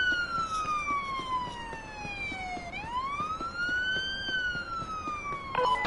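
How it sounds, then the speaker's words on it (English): A police car siren in Police Simulator wails loud and close, its pitch sweeping down and back up in a continuous cycle. "that siren is mad annoying"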